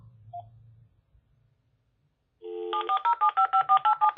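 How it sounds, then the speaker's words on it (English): A telephone dials a number: after a steady tone, a rapid run of about eight crisp touch-tone beeps sounds close and clear in a quiet room, preceded by a faint low hum. "So, Michael, you need to answer the phone."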